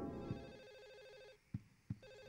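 A telephone in Silent Hill 4 rings with a warbling electronic trill, faint and steady, broken by a few soft thuds, with no voices.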